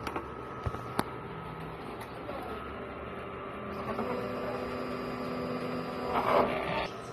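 A sublimation printer runs a print head cleaning: a faint, steady mechanical hum with a few sharp clicks early on, then a soft whirring that swells briefly near the end.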